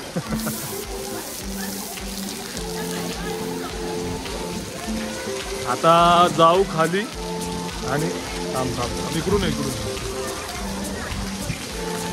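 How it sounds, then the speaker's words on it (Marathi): Steady heavy rain hisses throughout in Lonavala, with music playing and a person speaking briefly over the downpour. "पाऊस भरपूर आहे बघा, पाऊस बेकार आहे."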